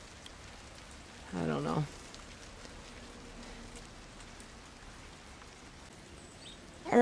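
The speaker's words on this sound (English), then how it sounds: "it's just raining out here too much" Rain falls outdoors by a hen house, a steady soft hiss of drops throughout, with a brief muttered voice near the start and a louder sound at the very end.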